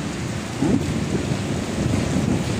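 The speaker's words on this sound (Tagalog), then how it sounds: "Ang laki ng patak ng ulan o." Heavy rain falls in large drops, a dense, loud, steady roar of water pattering and drumming on surfaces close by.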